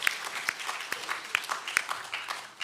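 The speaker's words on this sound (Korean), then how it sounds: "하나님의 박수로 영광 돌리겠습니다." A church congregation at a Korean Methodist Sunday service claps in praise, a moderate rhythm of distinct, sharp hand claps standing out over softer scattered clapping in a reverberant room.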